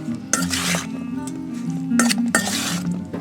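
Spoon clinking and scraping against a bowl while sausage, potato and vegetables are stirred together for a casserole, in two short bursts of clattering with quieter mixing between them.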